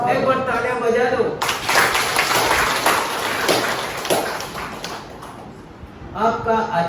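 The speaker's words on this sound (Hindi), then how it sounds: "एक बार तालियां बजा दो।" A church congregation breaks into broad clapping that fills the middle of the clip, a dense wash of many hands at moderate distance, with a voice speaking before and after it.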